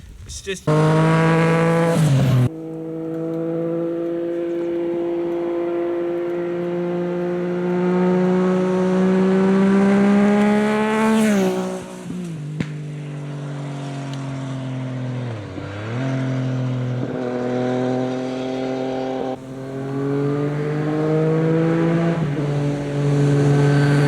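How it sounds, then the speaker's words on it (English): A Yamaha XSR900 motorcycle revs hard and accelerates repeatedly, its loud, close engine note climbing in pitch, dropping between gear changes and rising again, with brief lulls where the rider backs off. "I've never heard a better sounding bike"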